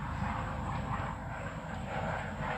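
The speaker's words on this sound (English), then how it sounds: "We got a helicopter behind us." A helicopter flies behind the group outdoors, giving a steady, low droning rotor and engine rumble that holds at an even level throughout, with no talk over it.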